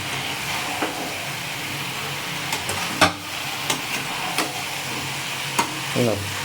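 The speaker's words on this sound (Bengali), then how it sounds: "এই লতিটা দিয়ে ভালো করে কষিয়ে নেব" Stems sautéing in a pan with a constant soft sizzle, broken by a handful of scattered scrapes and clicks from stirring, close and moderately loud.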